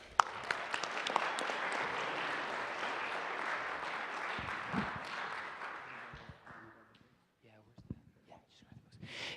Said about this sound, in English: So let's give a round of applause to Sergio.